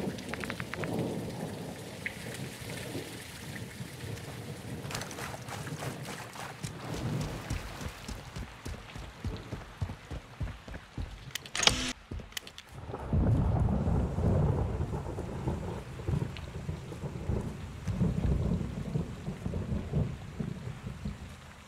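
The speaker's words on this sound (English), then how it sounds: "It's raining fucking hard." Heavy rain pours in a Call of Duty: Modern Warfare II level, a dense continuous hiss of drops with rumbling swells and a sharp crack midway, growing louder and fuller in the second half.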